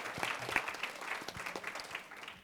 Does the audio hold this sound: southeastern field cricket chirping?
no